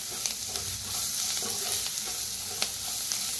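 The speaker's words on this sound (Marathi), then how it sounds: "हळदीला बी भाजून घेऊया" Turmeric roasting in a hot pan makes a continuous, fairly loud sizzle up close, with faint scraping stirs and a few small ticks breaking through.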